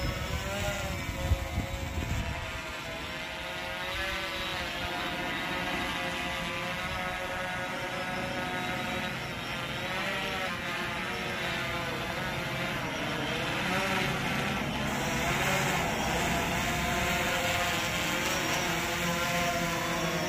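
A DJI drone flies and hovers with a steady, even propeller whine and layered harmonic hum, sustained without pause and with no voices.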